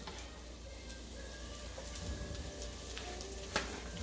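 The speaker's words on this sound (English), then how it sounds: "I chopped up some of those onions, add fresh garlic" Chopped onions and fresh garlic sizzle in a pan, a steady soft crackle that stays even from start to finish, with one brief sharper tick near the end and no talking.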